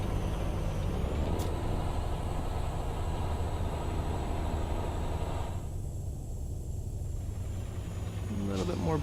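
A truck's air brakes hiss in American Truck Simulator as an old big rig is driven along, a steady engine and road drone throughout with a brief airy release near the end, while a voice talks over it.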